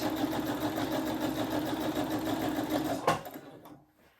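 A sewing machine stitches the elastic seam of a gingham dress in a fast, rhythmic mechanical chatter that stops abruptly near the end, close and loud.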